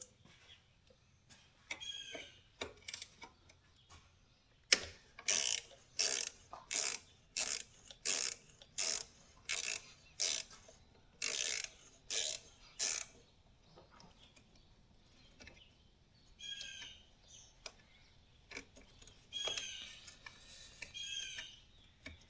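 An impact gun or ratchet spins a castle nut on a Yamaha Grizzly 700 wheel hub: a series of about ten rapid, loud mechanical bursts in a steady rhythm, with quieter clicking and handling noises before and after.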